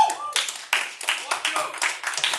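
An audience at a talk claps in a brief, quick burst to vote for the Watchers, the hand claps sounding close and dense.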